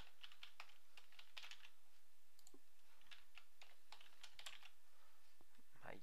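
Quiet, close keystrokes on a computer keyboard as a username and password are entered, irregular bursts of clicks with short pauses between them.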